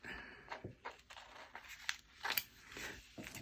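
Scissors snipping PET tape, a handful of short, quiet crisp cuts and rustles at close range, spaced irregularly with no talking.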